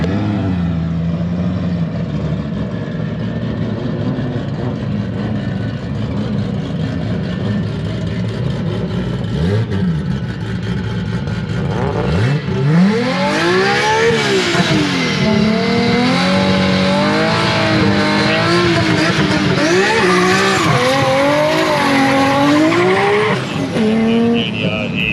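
Race cars at the Cootamundra racing event accelerate hard down the runway, with loud, continuous engine roar, revving and rising whines as they pass, plus tire squeal.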